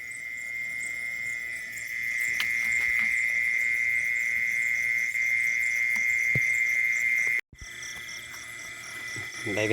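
Mole crickets give a steady, loud, continuous high trill lured out with sound at night, with a brief dropout near the end, then the buzzing chorus resumes with other insects in the background.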